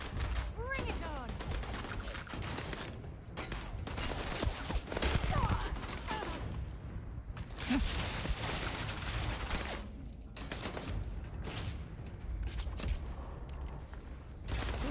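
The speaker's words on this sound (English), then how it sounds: "Who is over here shooting at me?" Dense, continuous gunfire from the video game Starfield, with rapid bursts and volleys layered under a busy game soundscape for the whole stretch, plus occasional voice.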